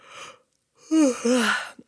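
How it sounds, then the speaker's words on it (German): A breathy inhalation, a brief pause, then a long, drawn-out vocal yawn with a wavering, sighing pitch, heard up close. "gähnen und strecken wie eine Katze"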